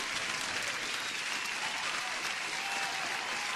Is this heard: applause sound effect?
yes